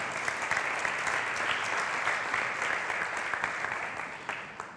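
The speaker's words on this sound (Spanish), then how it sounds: "Un aplauso, por favor." Sustained audience applause at a wine congress on rosé wines in Spain, dense steady clapping from a crowd lasting throughout and fading slightly at the end, with no voices over it.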